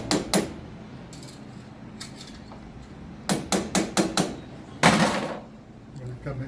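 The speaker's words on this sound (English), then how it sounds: "we just tap this to swage the aluminium pipe" A hammer taps to swage an aluminium pipe down around a capillary tube, giving sharp metallic knocks in uneven clusters, including a quick run of five taps, close to the listener.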